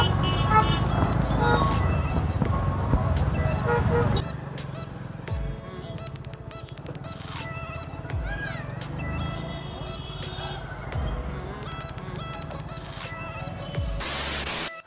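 Congested road traffic jammed by a market at night, engines rumbling steadily with scattered car horn honks, some short toots and some longer blasts, near and far, mixed with faint background voices.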